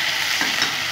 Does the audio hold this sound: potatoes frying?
yes